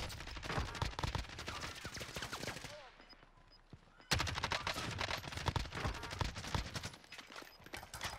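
Rapid gunfire bursts from Call of Duty Warzone, loud and dense, breaking off briefly in the middle of the clip before another sustained burst of shots resumes.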